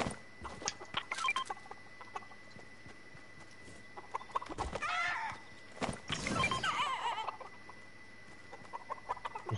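Chickens clucking and squawking in a video game, several short bursts and flurries spread across the stretch with quieter gaps between, over a faint steady background hum.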